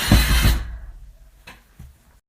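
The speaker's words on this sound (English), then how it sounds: "So then you just get to drill it into the wall." A power drill bores into a wall to mount a mirror, a short loud burst of whirring at the start that cuts off, followed by faint clicks and handling noises.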